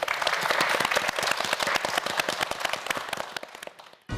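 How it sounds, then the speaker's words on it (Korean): A studio audience at a Korean TV science quiz show applauds four student contestants: dense, steady clapping that holds loud for about four seconds, then cuts off abruptly. "오늘 출전해준 4명의 학생에게 뜨거운 박수 부탁드립니다"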